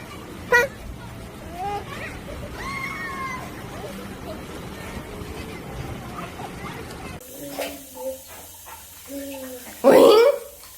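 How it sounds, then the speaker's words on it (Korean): A 14-month-old toddler stomps in water, ending in one short, loud splash after scattered smaller sounds, while adults talk and coo nearby. "발 구르는 거 봐. 첨벙첨벙 한다고."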